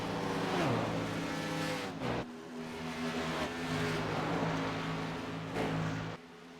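Qualifying-heat race cars roar around a track at a charity racing night, engine notes sweeping down as each car passes nearby, with repeated pass-bys and a brief drop near the end.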